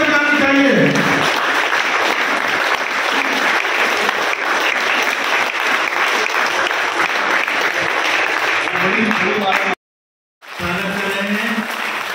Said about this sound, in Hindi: जोरदार तालियों से आप सभी अपना स्वागत करें।